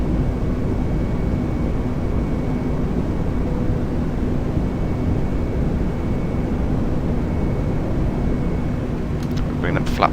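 An easyJet airliner climbs out of Edinburgh after takeoff in Microsoft Flight Simulator 2020, with a constant, heavy engine and airflow roar that fills the whole stretch at an even level.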